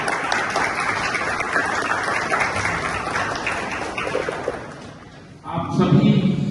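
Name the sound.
loud audience applause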